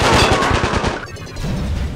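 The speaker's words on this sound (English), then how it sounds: "gunfire that sounds more like popcorn popping than shooting" Rapid gunfire from the video game Call of Duty: Black Ops Declassified, a loud, fast burst of automatic shots that cuts off abruptly and is followed by a quieter, rumbling tail.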